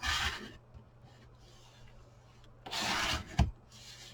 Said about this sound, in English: I'm going to go ahead and burnish that down, just like that